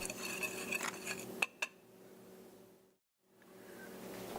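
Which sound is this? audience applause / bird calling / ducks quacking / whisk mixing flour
whisk mixing flour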